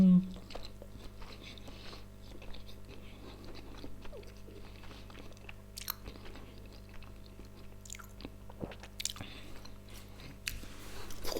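Someone eating a Philadelphia sushi roll by hand, with soft, close, irregular chewing and faint crunches that continue steadily over a low background hum.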